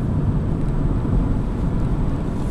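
A Vauxhall Astra running on LPG dual fuel cruises in fifth gear, a steady low engine and road rumble inside the cabin, even and continuous with no talk.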